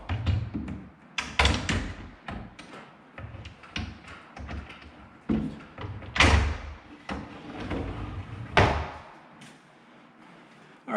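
A cabinet drawer goes in during DIY cabinet assembly: a series of close wooden knocks, thuds and sliding bumps, some sharp and loud, spread irregularly with short pauses between them.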